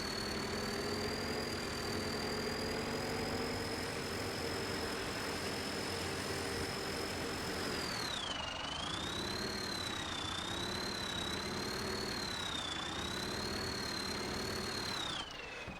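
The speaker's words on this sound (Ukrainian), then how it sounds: "Заглушимо поки трактор, тому що дуже голосно працюємо" A steady tractor engine in Farming Simulator 17 idles continuously with a droning whine that dips and wavers slightly partway through, loud and close, with no talking.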